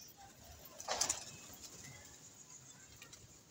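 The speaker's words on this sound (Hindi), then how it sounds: "देखिए कबूतर ही हमारे उस्ताद ने उड़ा दिया" A short burst of wing flapping as a pigeon is released and takes off nearby, followed by quiet background noise.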